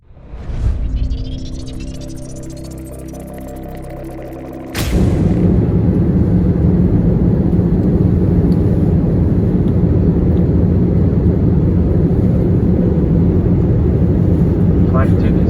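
Steady broadband roar of an airplane cabin during landing approach, loud and continuous, jumping to a heavier rumble partway through as engines or gear change, with no talk.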